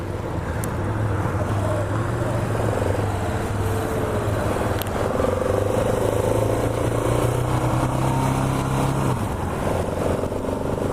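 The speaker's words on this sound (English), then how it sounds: "This is my first KTM dirt bike" A 2017 KTM 690 Enduro R dirt bike being ridden, its single-cylinder engine droning steadily with pitch rising and falling through gear changes, under heavy wind buffeting on the microphone.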